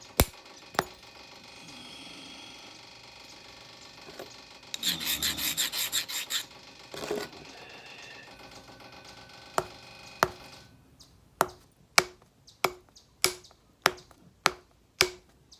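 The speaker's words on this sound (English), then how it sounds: "you can percussion plate thin slabs" Sharp stone-on-stone flint knapping strikes, percussion flaking a thin slab, crack out one after another, a quick series of hard clicks near the end, following earlier scraping and grinding.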